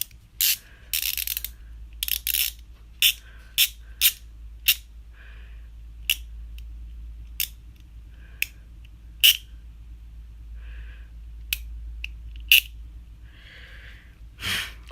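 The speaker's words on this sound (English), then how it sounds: "sounds like a handbrake" A fan's support mechanism ratcheting as it locks in place: a series of sharp, separate clicks spaced irregularly over a quiet low hum, with faint rustling between them.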